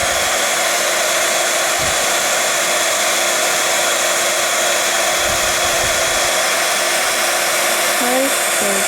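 A heat tool blows hot air steadily to melt embossing powder on a stamped piece, a loud continuous whoosh running alone without a break.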